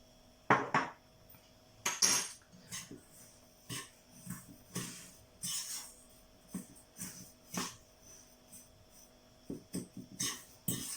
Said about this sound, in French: on va tout simplement mélanger les deux, donc les cristaux avec le bicarbonate